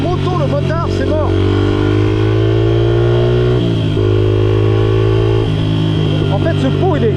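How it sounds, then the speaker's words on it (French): A motorcycle with a loud exhaust holds steady engine tones that shift in pitch as it revs, close and dominant, while someone talks over it. "En fait, ce pot, il est bruyant, quoi."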